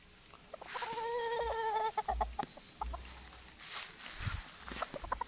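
Super Brown Red gamefowl stags crow loudly and close, with one long drawn-out crow followed by scattered clucks and shuffling footsteps in a farm yard.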